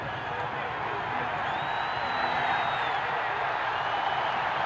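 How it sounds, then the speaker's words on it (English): Steady roar of a large stadium crowd at a Georgia vs South Carolina college football game, swelling for a third-quarter kickoff with scattered cheers, whistles and applause, distant and continuous throughout. "The crowd comes up for the kickoff with 11:21 to play in the 3rd quarter"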